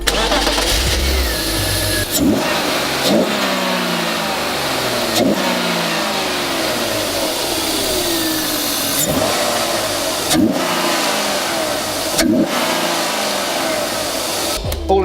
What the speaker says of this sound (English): Hold the camera while I start the car.